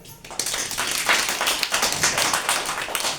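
A young child stands and claps hands in an Anganwadi classroom activity, a quick run of fairly loud, steady claps continuing for a few seconds without pause.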